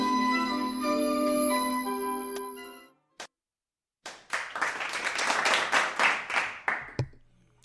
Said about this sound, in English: Rousing round of applause